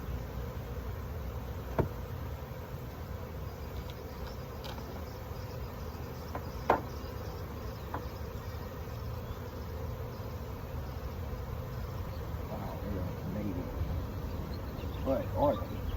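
Honey bees buzz in a steady, moderate drone during a hive inspection outdoors, with a few faint knocks and light handling sounds from the boxes.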